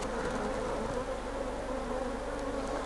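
Honeybees buzz steadily inside a hive during a check on a problem swarm, a dense continuous hum heard close and alone.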